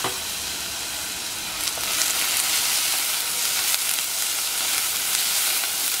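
Chopped green chilli and cashews sauté in a hot pan with a steady, loud sizzle, sharpening after a couple of seconds as they are stirred, with crackly bursts and no voices.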